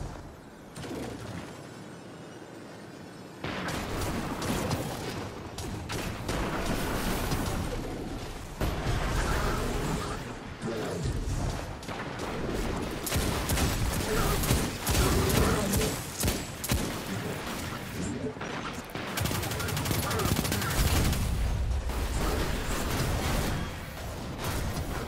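Heavy video-game combat from hostile forces' big guns at a set of ruins: dense, continuous gunfire and booming explosions fill the whole stretch, loud and close, with a quieter lead-in at the start.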